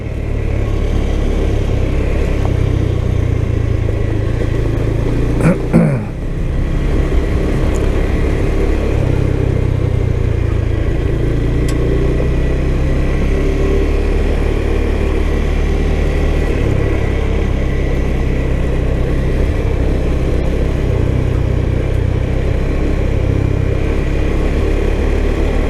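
A 2021 KTM 390 Adventure rides over loose gravel with a loud, steady engine drone and constant wind rumble throughout, broken by one brief sharp knock partway through.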